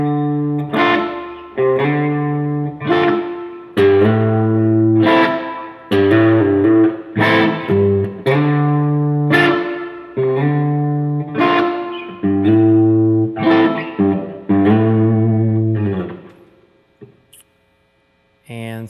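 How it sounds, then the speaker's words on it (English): Gibson L6S Reissue electric guitar played through its bridge single-coil pickup with reverb, a run of bright chords and notes strummed at a steady pace, ringing out with a reverb tail before a brief pause near the end. "Now I'm going to move on to the second position, which is the bridge single coil."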